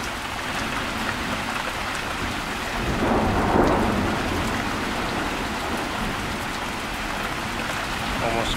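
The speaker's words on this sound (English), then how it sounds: "Constant flashing of lightning, deluging, very windy." A deluging thunderstorm in north-eastern Texas, with a constant roar of heavy wind-driven rain and a low rumble of thunder swelling near the middle.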